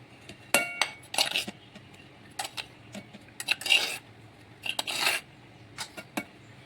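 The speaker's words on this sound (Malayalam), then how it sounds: "ഒരു ജാറിലേക്ക് നാളികേരമൊക്കെ ഇട്ട് കൊടുക്കാം" Coconut being put into a grinder jar: a series of close clinks, taps and soft thuds as pieces drop in and a utensil knocks against the jar, irregular and fairly quiet.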